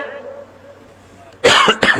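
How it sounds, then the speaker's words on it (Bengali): A man's coughs burst out after a quiet stretch: two short, sharp, close coughs in quick succession at the end. "কাশি দিয়ে না কাশি দিয়ে না"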